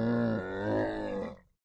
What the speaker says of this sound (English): Baby Camel.